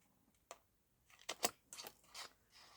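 Scissors snip through a paper craft piece, a few quiet, crisp cuts spaced irregularly, close up with no talking.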